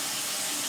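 Water runs from a kitchen tap while hands are washed, a brief, steady close hiss of flowing water.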